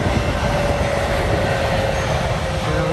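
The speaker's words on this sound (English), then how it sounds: "You've got a train coming there." A train rolls past nearby on railroad tracks in Bransford, Texas, a loud continuous rumble of wheels with a steady tonal whine, no voices.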